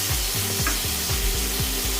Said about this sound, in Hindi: 2 मिनट भूनने के बाद इसमें डालेंगे टमाटर